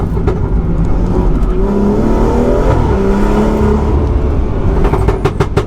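A 510bhp BMW M240i lapping a race track, its engine revving hard and droning up through the gears with loud, close exhaust note and sharp popping bangs toward the end.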